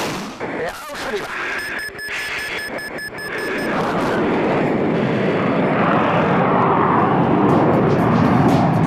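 Mirage 2000 fighter jet on its takeoff roll, the engine roar building from a rumble into a loud, sustained broadband thunder heard from inside the cockpit, with brief clicks and tones early on.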